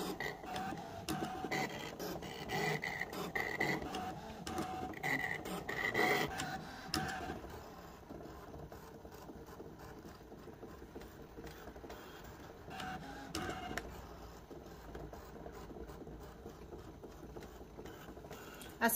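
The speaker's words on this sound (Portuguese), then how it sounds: "E a máquina corta com precisão." A cutting machine cuts small, detailed pieces for crib bunting, giving a continuous mechanical whirring and patter with rhythmic carriage movements, louder at first and then quieter and steadier.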